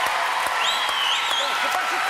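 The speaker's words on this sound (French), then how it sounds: "Applaudissements du public, bien évidemment." A TV studio audience applauds on a French talk show, a steady bed of clapping with voices and cheers mixed over it throughout.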